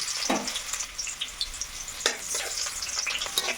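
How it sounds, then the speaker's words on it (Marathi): Chopped onion sizzles steadily in hot oil tempered with mustard seeds and cumin for a baby potato curry, a close, continuous crackling fry with no voices. "कांदा फ्राय करत आहे."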